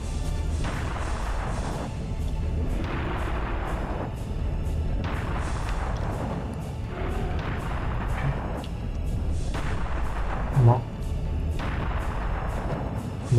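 Cannon fire in the video game Serious Sam: The First Encounter: heavy booming shots repeat every second or two over a steady bed of game noise, with no voices.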